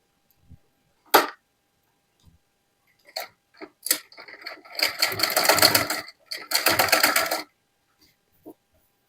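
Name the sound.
sewing machine stitching a suit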